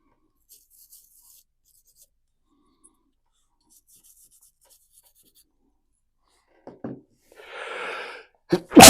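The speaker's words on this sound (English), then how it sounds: "making me sneeze" A person sneezes close by while cleaning a Wii Remote with sprayed isopropyl alcohol: a short sharp intake is followed by a loud, breathy burst and an abrupt final blast at the end, after near silence.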